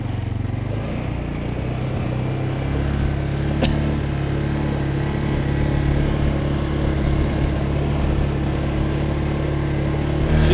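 Tracked ATV engine running in low gear while driving on ice, a steady loud motor drone with a low hum that builds slightly, no talk over it.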